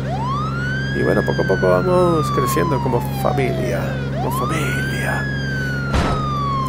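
A wailing siren from the video game State of Decay rises and falls in long sweeping cycles, loud and steady across the clip, while someone talks over it.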